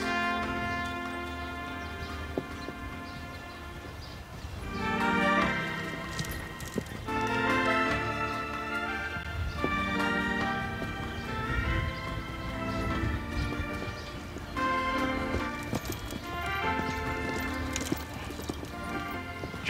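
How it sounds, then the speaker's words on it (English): Horses canter around a horse show arena, their hoofbeats mixed into a busy, steady wash of sound, with an occasional whinny and faint background voices. "Extend the canter, please."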